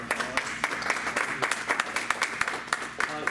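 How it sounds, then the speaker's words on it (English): A conference audience gives a short round of applause for panelists after a talk, scattered individual claps fairly faint and close, with speech overlapping. "Let's give a round of applause for our panelists."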